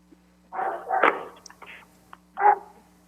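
A dog barks several times in the background of a city council meeting held remotely, short separate woofs with gaps between them, fairly close and alone over a quiet room hum.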